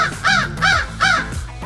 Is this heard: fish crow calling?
yes